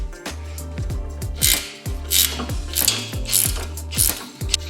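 A ratchet wrench turns a 3/4 socket on a strut bolt of a Jeep Renegade during a 2-inch lift install, giving loud, close, fast clicking pawl bursts in repeated back-and-forth strokes with no talk.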